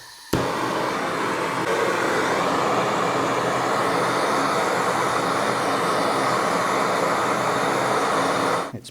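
A torch heats a motor pulley on a Harrison HS171 universal mill to free it, giving a loud steady roaring rush that starts abruptly and holds constant for several seconds before cutting off.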